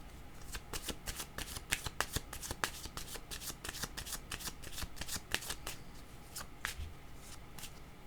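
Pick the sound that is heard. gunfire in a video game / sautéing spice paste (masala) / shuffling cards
shuffling cards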